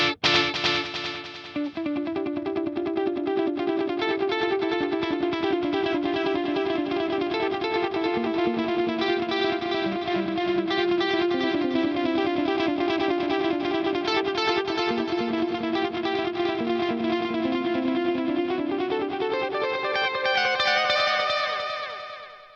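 Distorted electric guitar through a BOSS Katana Gen3 head playing a sustained melodic line, each note trailed by repeating echoes from a 400-millisecond series delay that blur into a wash of sound, loud and continuous.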